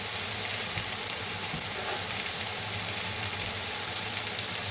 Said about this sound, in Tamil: எல்லாத்தையும் போட்டு நல்லா வதக்குங்க.